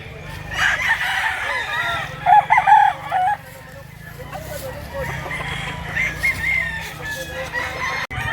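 Chickens and roosters at a stag sale, with loud nearby crowing and clucking running throughout while people talk in the background.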